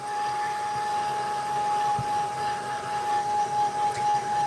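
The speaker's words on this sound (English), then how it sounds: "Just get my hair dryer." Hair dryer blowing steadily while used on artwork, a continuous whirring motor hum with airy hiss at a constant close, loud level throughout.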